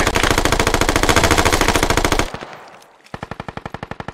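Automatic gunfire rattles in a squad-based zombie shooter game: a long sustained burst, a short pause, then another rapid string of loud, close shots.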